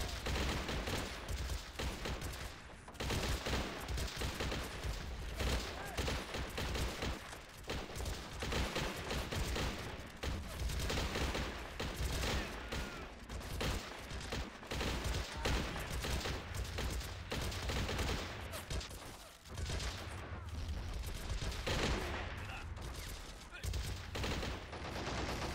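Sustained machine gun fire in the battle game Men of War: Assault Squad 2, Pacific campaign invasion of Borneo, rattles on for a long stretch amid scattered shots and booms, loud and relentless with only brief lulls.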